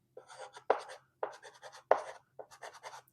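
Chalk or marker writing on a board during a physics lecture on Bohr's model, heard as a string of short scratchy strokes in bursts, fairly close and clear with no voice over them.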